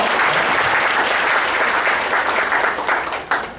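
Steady applause from an audience at a business seminar, dense, continuous clapping that stays loud throughout and thins slightly near the end.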